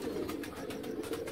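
Pigeons, a golden male paired with a Teddy female, coo softly on a rooftop loft in a brief, faint murmur of low throaty calls against a quiet background.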